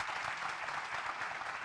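Applause for Father Frank Brennan at a lunch talk on the Voice to Parliament, with a soft, continuous wash of clapping from a seated audience, fairly distant and even in level.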